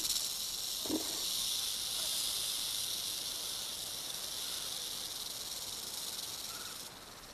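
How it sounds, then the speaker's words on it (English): A rattlesnake shakes its rattle in warning, giving a steady, dry, high-pitched buzzing hiss that runs unbroken and fairly close, then drops slightly near the end. "the rattle is one of the most effective defenses in nature, giving fair warning in plenty of time"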